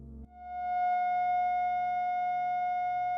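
A single steady F sharp sine tone rings out cleanly and evenly, sustained at constant loudness after a short quiet onset.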